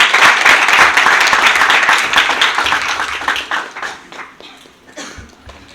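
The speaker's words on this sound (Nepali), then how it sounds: "हामी ताली बजाएर उहाँलाई स्वागत गर्छौँ" At a Bible college graduation ceremony, an audience gives a welcoming applause for a student. The dense clapping is loud at first and gradually thins and fades.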